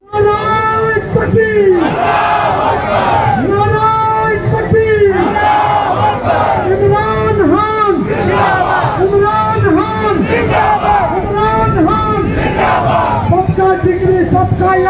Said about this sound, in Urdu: پاورفل طلبہ نے پنجاب پولیس کے سامنے نواز شریف چور ہے کے نعرے لگا دیے